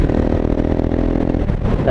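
KTM 701 Vitpilen motorcycle engine running steadily close by, a dense low rumble with a rough, pulsing texture and no clear revs, loud throughout.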